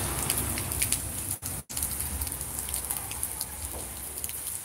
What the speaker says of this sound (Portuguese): Chuva é pegadona, olha esse som